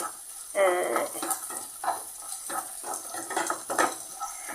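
Curry leaves and masala fry in a pan for Kerala beef ularthiyathu, a soft sizzle broken by repeated scraping stirs of a spoon against the pan in an irregular rhythm, close and fairly quiet.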